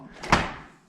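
A door of a stainless steel GE Cafe French door refrigerator swings shut with a single soft thump and a short fading rustle, close by and alone.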